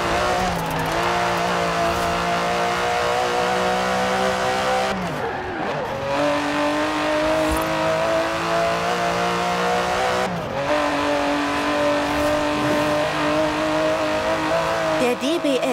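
Aston Martin with a 5.2-litre biturbo V12 in the racing game Forza Horizon 4, loud close engine revving up through gears with sharp shift breaks and some tire squeal.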